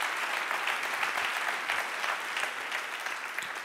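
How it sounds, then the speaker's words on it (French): Steady audience applause at an evening pitch competition event, a dense continuous wash of many hands clapping that holds at an even level throughout with no voices on top. "on peut accélérer les applaudissements aussi pour applaudir celles et ceux"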